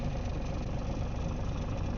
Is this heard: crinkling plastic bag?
no